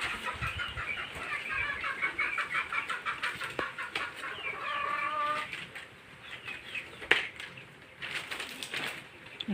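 Chickens cluck and squawk in a coop at close range, repeated rhythmic clucking calls with occasional wing flaps and rustling.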